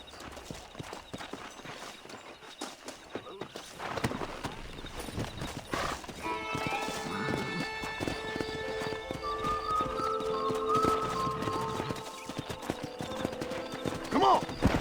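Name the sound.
horses neighing and hooves, Red Dead Redemption video game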